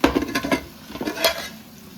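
Vegetables frying in a pan for mushroom biryani, stirred with a utensil that clinks and scrapes against the metal in a busy, uneven rhythm, close and fairly loud, with no voices.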